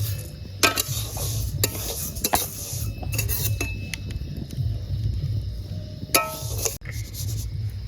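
Red lentils fry in oil in a pan while a metal spoon stirs them. Scraping and clinking sound in irregular bursts over a faint, steady sizzle, close up, with no talking.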